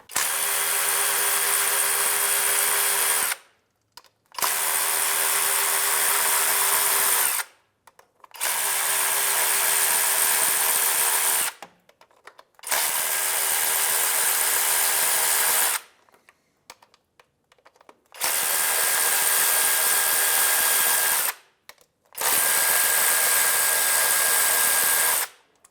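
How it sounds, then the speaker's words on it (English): Power tool with a 10mm socket backing out transmission oil pan bolts on a 2011-2016 Hyundai Elantra, whirring in six steady bursts of about three seconds each, separated by short silent pauses, loud and close with no talking. "So a 10mm socket is going to take all of these bolts out of this side pan."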